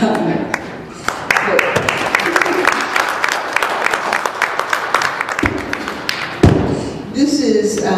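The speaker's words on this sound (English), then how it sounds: "And I will applaud that." Audience at a Malcolm X conference breaks into applause, dense and fairly loud clapping sustained for several seconds, with thumps and taps and a voice rising near the end.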